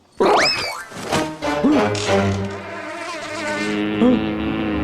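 A cartoonish bee buzzing drone with sliding, wobbling pitches and a boing-like swoop, loud and close, continuing without speech.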